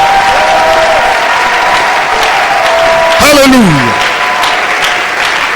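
A church congregation claps and cheers in a steady, dense wash of applause while a voice calls out loudly over it.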